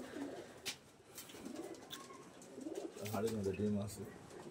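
Pigeons at a village bird farm give soft, low cooing calls. The calls are faint at first and then form a clearer cooing burst, with occasional rustling and quiet voices around them.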